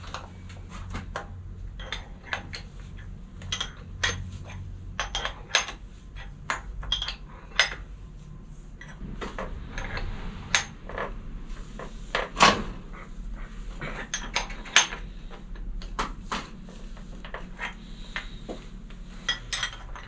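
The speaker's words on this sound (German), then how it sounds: "jetzt schrauben wir das Lager ein" A bottom bracket bearing screwed into the frame of a Felt 250 FS bicycle, with irregular close metallic clicks, taps and tool knocks spread across the stretch, no talking.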